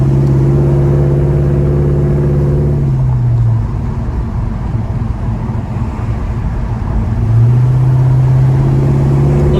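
A 1972 Chevrolet Chevelle engine pulls hard onto a freeway, a loud steady engine drone that drops away mid-run and then rises again near the end, with no talking.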